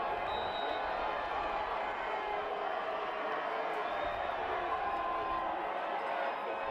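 A college football stadium crowd at a Penn versus Harvard game roars in a steady, dense wash of cheering and noise, continuous and loud throughout with no clear breaks.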